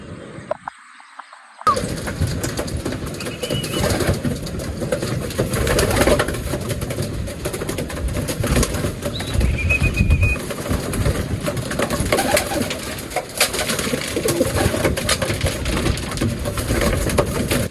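Pigeons coo softly and rustle nearby after a training flight, scattered low calls over a dense, rough, continuous background, with no talking.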